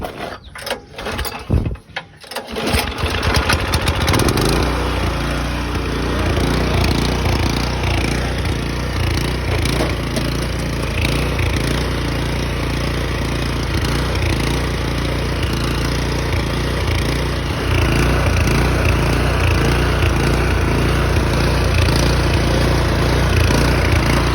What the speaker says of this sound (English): It's running. I tilled up a little bit just to see if it would work.